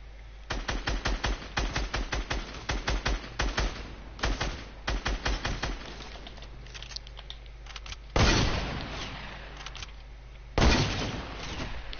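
Rapid bursts of gunfire from a shotgun in a video game, firing in quick repeated volleys over the first half, then two heavier blasts later, loud and close with no talking.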